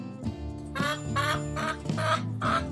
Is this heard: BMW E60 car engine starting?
no